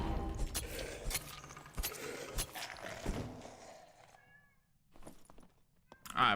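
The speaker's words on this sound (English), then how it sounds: "I apologize if you guys can hear the cat yapping in the background." A cat meowing in the background of a Dark and Darker gaming session, faint and partly masked by clattering, keyboard-like clicks and other room noise.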